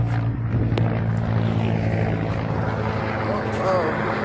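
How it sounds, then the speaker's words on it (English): A helicopter carrying a water bucket passes overhead as a steady, fairly loud rotor drone that fades gradually, with a person talking over it. "Chopper carrying a water bucket."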